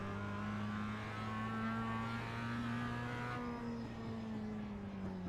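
A Mazda MX5 rookie-class race car in the iRacing sim at Laguna Seca, its engine droning steadily with a slight pitch dip as revs shift, heard continuously and moderately quiet without voices.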